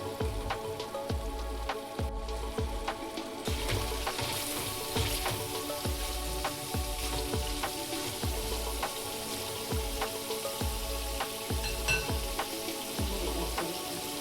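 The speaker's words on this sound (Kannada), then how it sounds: "ಫುಲ್ಲು ಡ್ರೈ ಆಗೋವರೆಗೂ ರೋಸ್ಟ್ ಮಾಡ್ಕೊಳ್ಳಿ" Paneer roasts with masala in a hot pan, a steady crackling sizzle with repeated scraping stir strokes in a regular rhythm, close and continuous with no talking.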